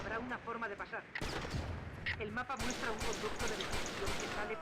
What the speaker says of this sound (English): Using my trusty pistol.